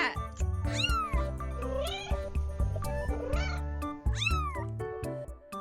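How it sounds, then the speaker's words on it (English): Cat meowing several times in a row, rising and falling calls heard clearly over a bouncy children's music backing track. "Cat."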